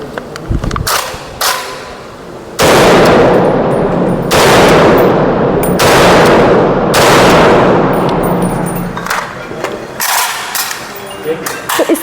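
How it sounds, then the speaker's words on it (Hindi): AK-203 rifles fire in a factory quality-control test, several loud close bursts of automatic gunfire with sharp single shots before and after, echoing in the space. "तो इस तरीके से फायरिंग टेस्ट होता है, और AK-203 का क्वालिटी चेक होता है।"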